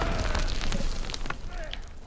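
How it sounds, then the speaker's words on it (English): A grenade blast in the video game Call of Duty WW2, a dense, sustained rumbling roar with crackling debris, mixed with game noise and a voice talking. "Yep, that's a grenade."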